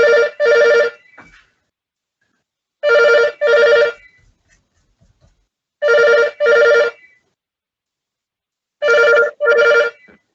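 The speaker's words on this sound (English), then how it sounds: "it gives us time to answer the phone" A telephone rings in four evenly spaced double bursts, loud and clear, with silence between each ring.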